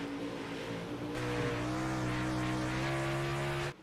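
Several iRacing race cars in a six-car, 40-lap event at Lima roar steadily and loudly with a strong engine drone and rising pitch, then cut off sharply near the end.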